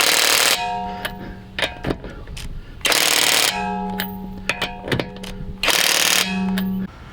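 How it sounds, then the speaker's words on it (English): A torque-limiting power tool tightens car lug nuts in three loud rattling bursts with brief mechanical whirs and clicks between, close by and without talk. "when it's done, you see the light went green and it stopped torquing it"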